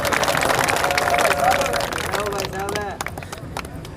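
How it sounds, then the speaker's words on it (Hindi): A crowd applauds steadily at a farmers' gathering at the Chikanwas Landhari toll plaza in Hisar. The dense clapping runs throughout, fading somewhat toward the end, while someone speaks over it and several voices sound near the microphone. "यहाँ एक बार फिर जोरदार तालियों से इनका स्वागत करें।"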